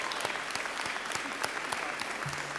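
An audience at a health science convocation applauds a Bronze Star award, steady dense clapping throughout a short burst, fairly close and without talk.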